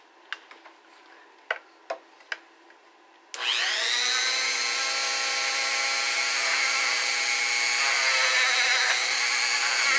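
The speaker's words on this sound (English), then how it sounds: "Alright guys, we've got the Dremel out. Now this is a medium-sized drum." A Dremel rotary tool fitted with a medium sanding drum enlarges a guitar pickup cutout on a Cort X2 Les Paul body, beginning after a few handling clicks and then holding a loud, steady high-pitched whine to the end.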